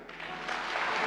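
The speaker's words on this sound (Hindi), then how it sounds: "अपने लिए ताली बजाओ" An audience at a Bhagwat Katha religious discourse bursts into applause, a brief dense wash of many clapping hands that swells slightly toward the end with no speech.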